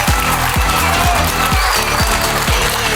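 A studio audience applauds at a comedy show in steady, dense clapping that stays loud and close throughout, with no talk over it.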